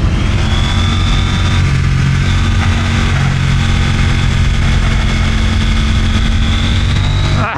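A CFMOTO 800NK motorcycle engine on a ride, a loud continuous drone with a steady mid-pitched tone holding throughout, close and without talk.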